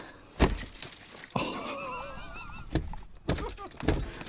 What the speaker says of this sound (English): That's glass going in the interior.